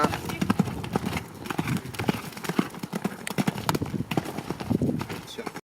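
A horse canters and gallops during show-jumping training, its hoofbeats thudding in a quick, irregular rhythm close by while a trainer's voice speaks over it.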